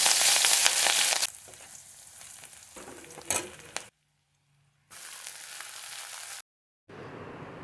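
Leafy greens fry in a pan with a dense, loud sizzle at first that softens into quieter frying, cut by brief gaps of near silence and a few clattering stirs.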